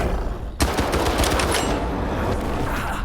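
Sudden loud burst of automatic gunfire in the video game S.T.A.L.K.E.R. 2, starting sharply and continuing as a fast, close, rattling stream of shots for the rest of the moment.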